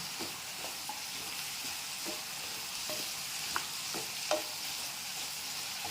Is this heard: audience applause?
no